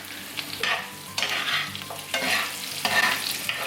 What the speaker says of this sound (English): we want to saute these until they get almost like a crispy popped texture